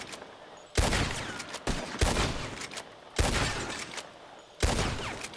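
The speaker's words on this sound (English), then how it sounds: "Who can shoot the most bottles? Just draw your gun and aim when you're ready, all right?" Five sharp revolver shots at bottles in a Red Dead Redemption shooting contest, spaced irregularly about a second apart, each a loud crack trailing off into a brief ring.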